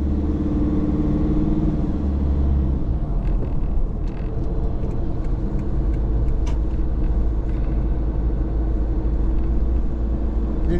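Road traffic with a bus pulling out, heard as a loud, steady low engine rumble and road noise from close by, running continuously with no voices.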